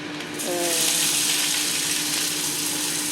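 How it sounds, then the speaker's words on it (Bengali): Chopped onion, garlic and green chili hit a hot pan and hiss in a steady, loud sauté that starts abruptly and holds without a break, with a faint background hum underneath. "পেঁয়াজ কুচি আর রসুন কুচি আর কাঁচা লঙ্কাটা একসাথে দিয়ে দেবো, একটু সটে করে নেব।"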